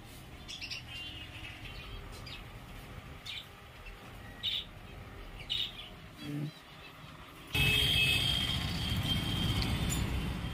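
Small caged birds in a pet bird shop chirp and tweet in short bursts amid shop noise and people talking, with a louder, busier stretch of chatter near the end.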